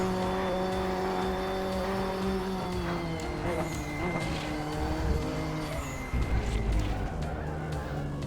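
Race car engine in the RaceRoom Racing Experience sim, droning steadily with shifting pitch throughout as revs rise and fall, a continuous loud engine tone with occasional harsher bursts near the end.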